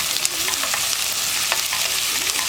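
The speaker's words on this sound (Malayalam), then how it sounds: "പൊട്ടുന്നതിന് മുന്നേ തന്നെ ഞാൻ സവോള ചേർക്കാണ്." Sliced onions sizzle in hot oil with cardamom, cinnamon and cloves for a mutton curry, giving a continuous close, crackling fry with light stirring scrapes.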